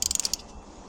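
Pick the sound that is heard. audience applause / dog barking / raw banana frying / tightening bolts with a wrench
tightening bolts with a wrench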